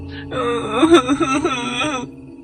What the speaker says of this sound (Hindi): बुढ़िया के रोने की आवाज